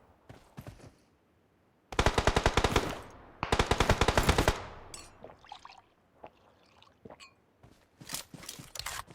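Bursts of rapid automatic gunfire in the mobile battle royale game PUBG Mobile, two long sustained volleys followed by scattered shorter shots and clicks, loud and close with no talk over them.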